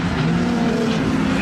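A street stock race car roars past at high speed at Toowoomba Speedbowl, its engine note loud and shifting, with a commentator talking over it.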